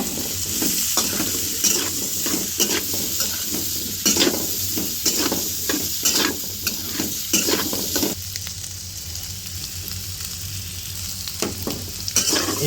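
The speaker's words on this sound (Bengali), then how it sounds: "ভালো করে আলুগুলো ভেজে নেবেন" Potatoes seasoned with turmeric, chili powder and salt fry in a pan, a continuous sizzle broken by frequent rhythmic scraping strokes of a stirring spoon, close and clear with no talk.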